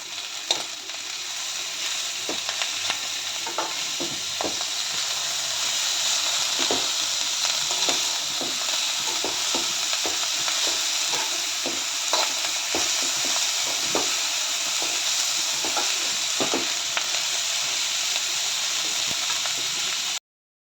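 Chivai greens with soaked moong dal frying in a pan while being stirred, a constant, fairly close sizzle running for about twenty seconds with frequent soft scraping and tapping stir strokes, no voices.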